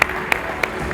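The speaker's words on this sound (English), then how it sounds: "A big round of applause to all of you." Audience applause fills a conference closing ceremony, a dense, loud wash of clapping from the crowd, with a few sharper claps standing out at regular moments across the short stretch.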